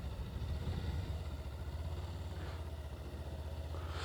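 A motorcycle engine holding a steady, high-revving drone during slow-speed riding, continuous and fairly close, with no voices.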